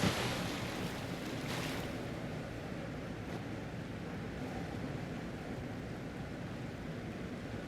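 River water in Fallout 76 flows as a soft, continuous rushing wash, even and unbroken throughout.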